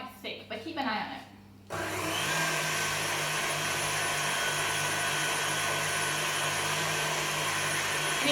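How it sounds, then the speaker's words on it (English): An electric whisk beats strawberry cake mixture, starting after some brief clattering and then running as a loud, steady, even whir for the rest of the clip. "you're going to whisk it until it's quite thick"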